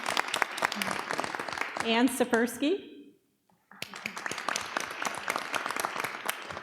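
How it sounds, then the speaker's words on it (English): A meeting audience claps for new school board members, a short burst of applause heard under a speaker's voice that stops suddenly into silence before talk and clapping resume. "let's clap"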